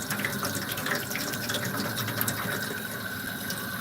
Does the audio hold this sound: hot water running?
yes